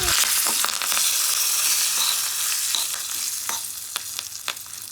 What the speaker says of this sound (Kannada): ಅಷ್ಟನ್ನು ಚೆನ್ನಾಗಿ ರೋಸ್ಟ್ ಮಾಡ್ಕೊಳ್ಳಿ.